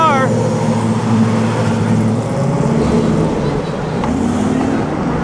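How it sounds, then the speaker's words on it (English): A 300 SLR race car drives past at the 2008 Mille Miglia. Its loud, steady engine roar rises in pitch at first, and a person talks over it. "There it is, 300 SLR."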